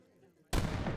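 A cannon fires in an Age of Empires III match, a sudden loud blast breaking in halfway through after quiet game ambience and rumbling on to the end.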